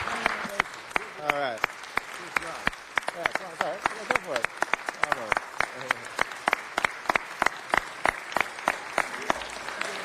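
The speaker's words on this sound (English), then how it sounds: "Can we give them another round of applause? Give a standing ovation." Sustained applause from a council meeting audience during a standing ovation, many sharp claps overlapping with brief talk from a nearby voice.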